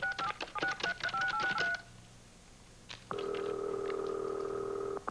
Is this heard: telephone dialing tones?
yes